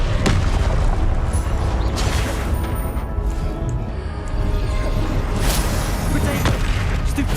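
Confringo explosion spells cast in battle in Hogwarts Legacy, a dense stream of booming blasts and bursts, loud and continuous, with shouted voices over the top.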